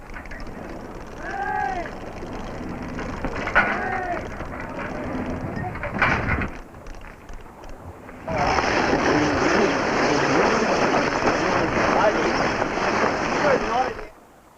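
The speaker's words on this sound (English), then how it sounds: "In a light breeze, the Ji-Fung, under sail for the first time, makes her way gracefully out of Hong Kong harbour." Traditional sailing junk under square and fore-and-aft sails moving out of Hong Kong harbour in a light breeze, a steady wash of wind and water with a brief low gust near the start, then a broader, louder rush of wind and spray.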